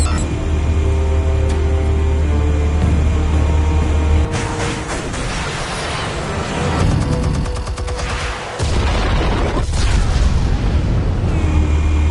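Explosives go off in Telltale's Batman game, a loud booming blast with crackling debris over a deep rumbling score, several heavy bursts landing between about four and ten seconds.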